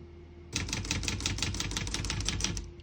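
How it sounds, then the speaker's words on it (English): Rapid keystrokes on a 1965 Olivetti Lettera 32 portable manual typewriter, a quick run of sharp mechanical clacks in a steady rhythm, close and clear, no voices. "We're going to keep it on single and finish typing."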